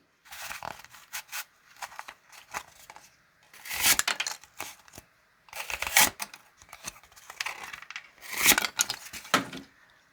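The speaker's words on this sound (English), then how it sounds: "Let's close it up with some cardboard cutting." A Buck 724 Mustang knife slicing through cardboard in repeated bursts, scratchy tearing strokes coming in clusters with short pauses between, close and fairly faint, with no talking.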